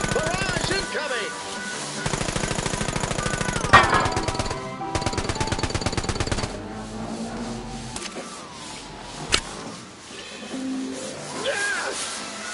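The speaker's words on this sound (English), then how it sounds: "Barrage incoming!" Rapid gunfire rattles in bursts in the VR shooter American Dream VR, with dense machine-gun-like strings up close, broken by gaps, single sharp hits and game sounds, and voices mixed in at points.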